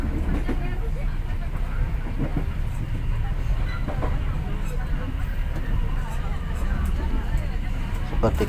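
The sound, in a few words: Serayu passenger train running, Jakarta to Bandung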